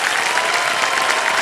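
Dense, even applause from a studio audience at a quiz show taping, loud and continuous with no voices over it.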